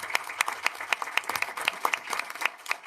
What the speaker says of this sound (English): big round of applause for Alina